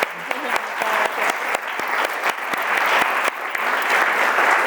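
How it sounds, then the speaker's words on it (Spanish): Sustained audience applause at a Spanish-language book event, many hands clapping densely and steadily, loud and close, with a few sharper claps standing out and no talk over it. "Vamos a darle un aplauso muy grande a María Rey."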